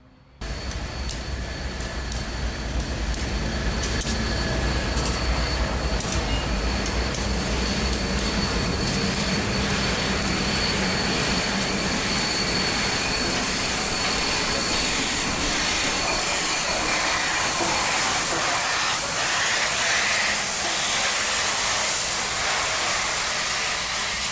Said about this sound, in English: we begin with the 4449 and her Amtrak helper backing toward the Whitefish fuel tracks